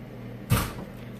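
A single door shuts with one sharp, close thud midway through an otherwise quiet room, followed by a brief fading resonance.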